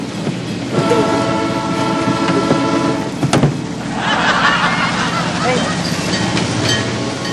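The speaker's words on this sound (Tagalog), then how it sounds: "Train." A train passes close by, loud and rumbling, with sustained horn blasts over the rolling clatter of the cars while voices talk underneath.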